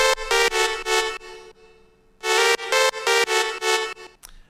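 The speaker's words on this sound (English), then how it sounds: "we have this, what I've called the party synth." A bright, buzzy Serum synth lead for an electronic dance drop plays loud, rhythmic chopped chords in two bursts separated by a short, quieter sustained tail, with clean gaps between stabs.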